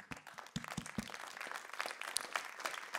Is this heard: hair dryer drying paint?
no